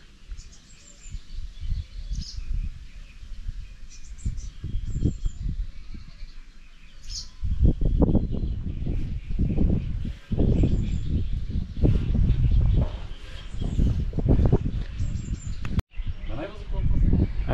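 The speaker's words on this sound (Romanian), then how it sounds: "Sunt mai multe păsări." Many birds calling around a nest in the Danube Delta near Maliuc, a dense, continuous chorus of overlapping chirps and calls, moderately near, with louder bursts in the second half.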